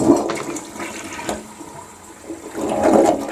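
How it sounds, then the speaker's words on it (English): A household toilet flushes close by after cleaning with a bowl cleaner, a surging rush of water that swells, eases off and then rises again as the bowl refills, with no voices. "I'm going to do a flush right now,"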